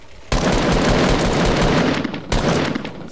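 A long, loud, dense rattle of rapid gunfire in Fortnite fills the whole stretch with barely a pause. One short break comes before the volley resumes close and sharp.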